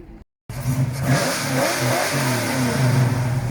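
After a brief cut to silence, a 7.2-litre car engine revs up loudly and holds a rising, throaty roar close by, with pitch shifting as it accelerates.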